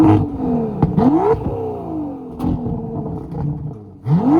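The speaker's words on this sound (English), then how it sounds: "So let's now take it out for a drive and see how this beautiful car performs." Aston Martin V12 Vantage Roadster engine roaring through several sharp revs, its pitch sweeping up repeatedly with pops between, loud and close.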